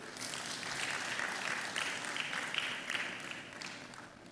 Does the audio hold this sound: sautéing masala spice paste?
no